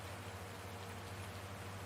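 Rain falls in the farming video game Farming Simulator 19, a faint, steady hiss of drops with a low constant hum beneath and no talking.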